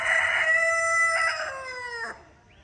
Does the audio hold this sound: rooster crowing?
yes